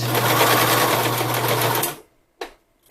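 A sewing machine stitching across a seam of a fabric gaiter mask, a loud close steady whir for about two seconds that stops, followed by two brief short bursts.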